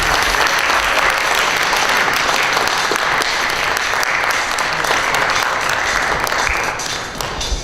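A pageant audience at the 2019 Miss Armada contest applauds the contestants, a loud, dense wash of clapping and cheering from a full room that holds steady before easing off slightly at the end.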